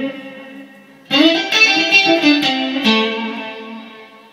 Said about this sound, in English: I've replaced my DD7 with this tape echo.